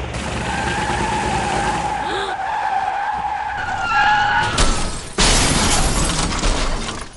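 A car skids along a highway, tyres squealing under engine roar, then a loud crash bursts out in harsh noisy impacts near the end.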